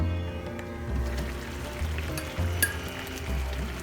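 Spinach chicken curry cooking in a pan over a medium flame, with a soft, continuous sizzle and low bubbling that swells in gentle repeated pulses, close by and without talk.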